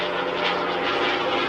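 P-51 Mustang propeller fighter aircraft with its piston engine droning steadily and fairly loud, a brief continuous roar with no voices.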